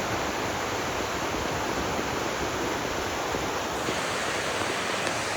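A river flows beneath a wilderness campsite, a constant broadband rushing of water that stays even and fairly loud from start to finish, with no talking.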